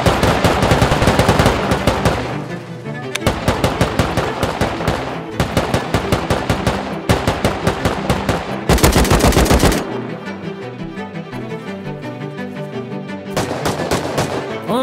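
Rapid bursts of turret machine gun fire in a Rust-style survival video game, loud and close, repeating in several long rattling volleys with brief gaps between them.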